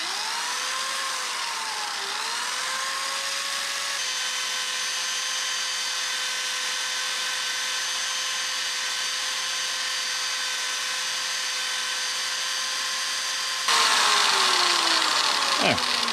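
A power tool whirs steadily while scrubbing rust off diesel fuel injectors from a Suzuki Samurai, holding an even pitch for a long stretch, dipping briefly under load near the start and winding down with a rising scrape at the finish.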